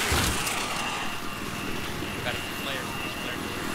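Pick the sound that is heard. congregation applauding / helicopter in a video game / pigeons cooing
helicopter in a video game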